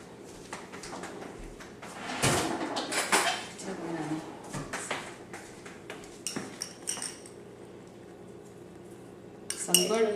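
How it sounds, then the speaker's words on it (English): Someone fetches a spoon in a home kitchen while cooking an Indian dish: clinking cutlery, rattling dishes and a drawer or door moving, in scattered bursts over about ten seconds. "I have to get the spoon."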